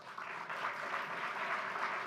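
An audience at a county commission meeting applauds with steady, soft clapping heard from across a large room, sustained for a couple of seconds with no voices.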